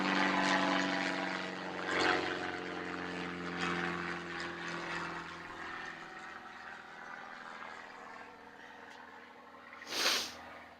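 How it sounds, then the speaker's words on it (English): A propeller airplane passing overhead outdoors, a steady droning hum that fades slowly as it moves away, with a brief rustle near the end and no voices. "Pause for plane."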